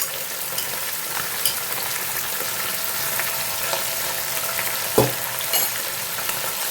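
Onions and green chillies sizzle steadily in hot oil for a Telugu dry fish and tomato curry, a continuous close crackle with occasional sharper pops and stirring, no talking.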